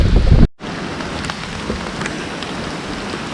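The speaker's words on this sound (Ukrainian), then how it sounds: "дощик гарний прийшов" Steady rain falls during carp fishing with a flat feeder, a continuous close wash of drops hitting the surface after a brief louder burst at the start.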